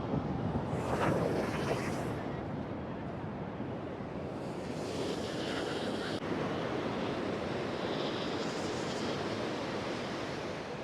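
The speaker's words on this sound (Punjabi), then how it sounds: "ਇਹ ਹੁਣ ਠਾਠਾ ਮਾਰਨ ਲੱਗ ਪਿਆ ਛੱਲਾ ਮਾਰਨ ਲੱਗ ਪਿਆ ਜ਼ੋਰ ਜ਼ੋਰ ਦੀ" Sea waves on Puri beach at night roll and crash continuously, a loud, broad surf roar with surges and wind buffeting the microphone, with no voices over it.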